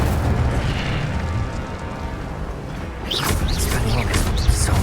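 Incendio fire spell cast during combat in Hogwarts Legacy, a dense rumbling burst of flame that roars for a few seconds, then gives way to whooshing, chirping magical effects near the end.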